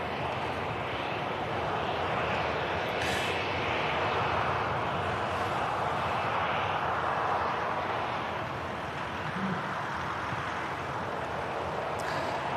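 An airliner taking off at Manchester Airport, a steady broadband engine roar that stays loud throughout with only slight swells and no voices.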